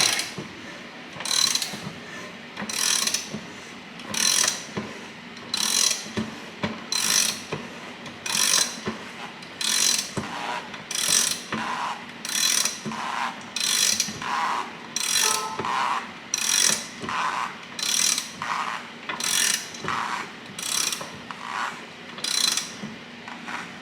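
Threads being cut on a car's front-end suspension part during a full front-end rebuild with QA1 shock upgrade, heard as a steady series of ratcheting clicks and grinding strokes, each about a second apart, close and fairly loud.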